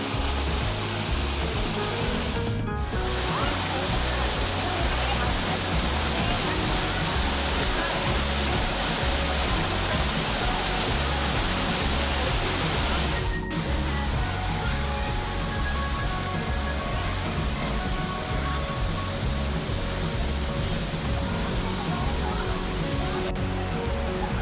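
Waterfalls pour down rocks along Juan Diego Creek in El Yunque rainforest, Puerto Rico, swollen after a week of heavy rain; a steady, loud, unbroken roaring rush fills the whole stretch.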